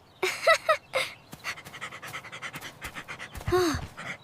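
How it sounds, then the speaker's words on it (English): A dog pants rapidly and close, quick breathy huffs with a couple of short whines at the start and end. "This is a dog."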